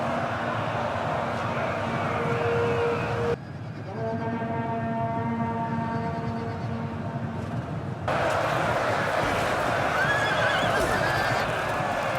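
Cavalry horses gallop with drumming hooves and neigh amid a loud battle scene in the ancient clash at the Hydaspes, a long whinny rising clearly through the middle of a dense, continuous din.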